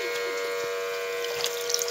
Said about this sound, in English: we know the pump's working because we can hear it humming